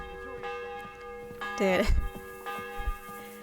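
Church bells ring in the medieval game Kingdom Come: Deliverance II, steady sustained tones layered under a voice, with a brief louder burst of clanging partway through.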